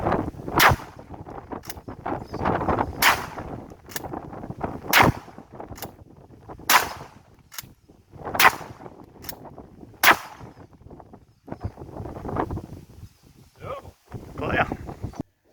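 An Axor Bushpig XT12 shotgun fires and cycles in a sequence of sharp, closely spaced blasts outdoors, with wind noise and someone talking between and after the shots.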